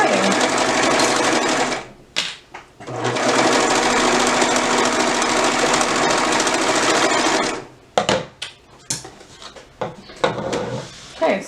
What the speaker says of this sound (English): that was how easy it was to sew this bodice together